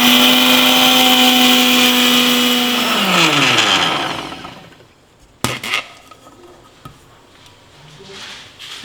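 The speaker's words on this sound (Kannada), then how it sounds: "ಈಗ ಇದನ್ನ ಪೌಡರ್ ಥರ ರುಬ್ಕೋಬೇಕು." A mixer grinder whirs loudly as it grinds sugar and three cardamom pods into powder, with a steady motor whine that winds down and stops midway, followed by a few faint clatters of the jar.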